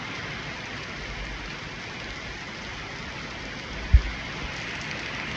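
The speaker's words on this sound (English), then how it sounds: "This rain keeps on distracting me" Steady rain falls as a soft, even hiss throughout, fairly faint, with one brief low thump near the end.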